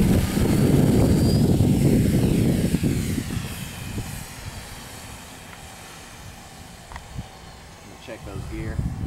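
A Dynam AT-6 Texan radio-controlled model airplane flies past in crosswind, its engine hum loudest at first, then fading into the distance, with people talking over it.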